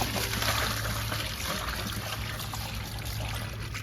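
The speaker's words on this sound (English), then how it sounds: "So just a matter of putting water into the pump enough" Pool water poured into a pool pump to prime it makes a steady, loud, broadband splashing rush that continues unbroken throughout, close by.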